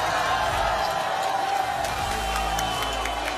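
A rally crowd welcomes a politician with cheering, whoops and scattered clapping, a steady dense roar of many people that stays loud throughout.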